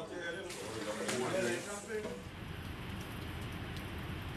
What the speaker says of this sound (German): Ein kräftiger Regen zeigt am anderen Morgen, dass die Inseln über dem Wind auch einmal unter dicken Regenwolken liegen können.